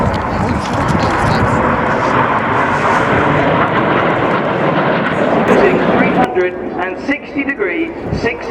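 Red Arrows jets in an aerobatic display roar loudly overhead in a broad, continuous jet rush that thins after several seconds, with a commentator talking over it.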